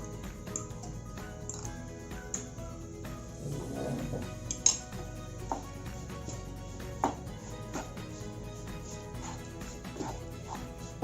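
Boiled potatoes being mixed with masala for aloo paratha stuffing, soft scraping under scattered light clinks of a utensil against the pan or bowl, quiet and close.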